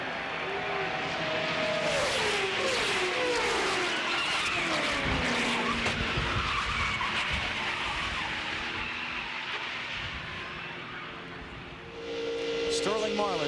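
NASCAR race cars roar past during a crash, amid squealing, skidding tires and rising and falling engine whines, with a crowd-like wash underneath and a voice faintly audible.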